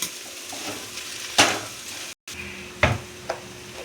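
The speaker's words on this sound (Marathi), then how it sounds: "हे आपण 5 मिनटं मोठ्या फ्लेमवर हलवून घेतलं का आपलं हे नूडल्स तयार होतात." Homemade hakka noodles are stir-fried in a pan over a high flame, giving a continuous hiss of sizzling. Occasional sharp clanks and scrapes of the utensil against the pan sound close by, with no talking.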